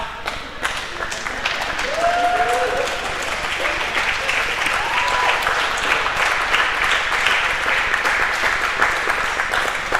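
Crowd applause fills Plassman Gym during the medal ceremony at the 2023 USABA Goalball National Championships. Steady, dense clapping runs throughout the whole stretch, with a couple of brief whistle-like tones early on.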